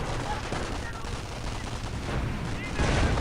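Rapid bursts from the .50 cal machine gun mounted on an M8 armored car in the WWII strategy game Company of Heroes, a dense rattling fusillade running continuously over battlefield din, loud and close throughout.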